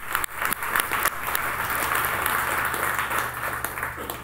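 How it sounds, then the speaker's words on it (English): An audience at a business leadership talk applauds steadily, a dense crowd clapping that swells quickly and holds at an even level throughout. "how about a big round of applause for them?"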